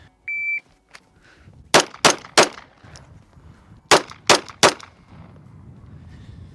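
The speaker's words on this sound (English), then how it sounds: "So I'm shooting appendix today with my Glock." A Glock pistol is fired from concealment in two quick strings of three loud, sharp shots each, with a short beep from a shot timer at the start and no talk between the shots.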